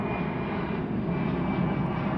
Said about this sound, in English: I'm letting the plane go by.